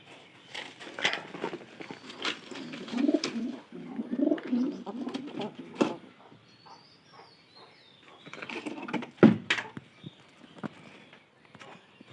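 Pigeons kept in a loft, giving soft, low cooing phrases at close range, with rustling of straw and wing or handling noises, plus a sharp knock, between quieter gaps.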